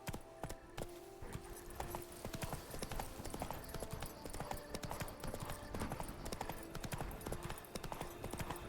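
Horse hooves galloping in The Witcher 3: Wild Hunt, Blood and Wine, a steady, busy clip-clop rhythm running throughout at close range, with a faint voice underneath.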